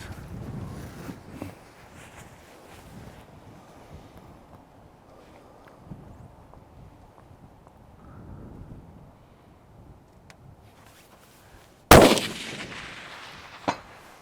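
A rifle fired at a 500-yard target outdoors, a single sharp, loud report near the end that stands out above quiet wind noise and faint talk, followed by a smaller distant thump.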